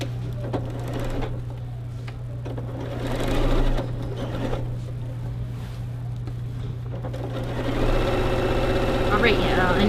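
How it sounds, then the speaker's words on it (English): A sewing machine runs on a churn dash quilt, stitching a long seam with a steady mechanical hum and needle chatter that swells at times, while a person talks over it at close range. "What can we chat about while we sew this really long seam?"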